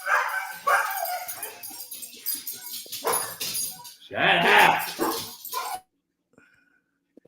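Dogs barking outdoors in the evening, a burst of loud, close barks and yips mixed with excited whines, with people talking over them before everything cuts to near silence.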